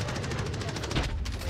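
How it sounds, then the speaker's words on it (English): Rapid gunfire in the Modern Warfare shooter, a dense string of quick repeated shots at a fast even rhythm, loud and close, consistent with incendiary shotgun rounds hitting around the player. "This guy's shooting freaking fire shotgun bullets at me, man."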